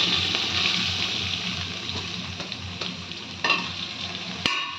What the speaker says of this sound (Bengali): চালটা ভালো করে কষিয়ে নেবো তেলের সঙ্গে